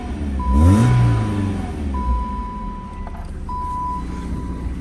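A 1-owner BMW E30 318i with 66k miles runs just after a cold start, a low steady engine rumble that swells briefly at first, then settles, with a thin electronic tone sounding intermittently over it.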